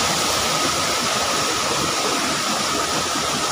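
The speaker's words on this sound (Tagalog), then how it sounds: "Tuwara nga atong waterfalls guys oh. Nagbusagak ra gyud ang tubig guys." A waterfall near Lumondo Bridge in Alegria rushes over large rocks in a loud, steady, unbroken roar heard up close.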